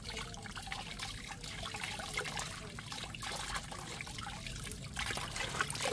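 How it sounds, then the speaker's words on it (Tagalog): Steady trickle of water running over hair during rinsing, soft and continuous with faint splashes, close by and fairly quiet. "babanlawan na natin yung buhok ni Mami"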